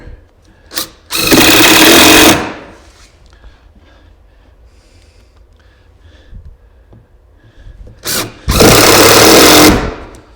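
A power drill drives 1.25-inch grabber screws into wood in two loud, close bursts of about a second each, whirring up and down with quiet handling noises between them.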